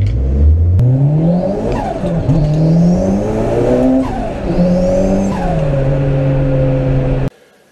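A Toyota Corolla with a 3S-GTE turbo engine revs loudly and steadily, its pitch climbing and dropping in several sweeping pulls before cutting off abruptly near the end.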